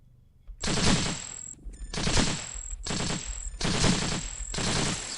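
A commando robot in the sci-fi game Cogmind lets off five loud bursts of rapid gunfire in quick succession, each about a second long, with short gaps of near silence between them.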